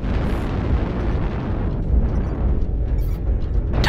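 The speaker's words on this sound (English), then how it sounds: "Artillery strike online." Artillery strike in the MechWarrior Online video game: a sustained, loud rumbling barrage of explosions, booms rolling into one another continuously and close up, with no voices.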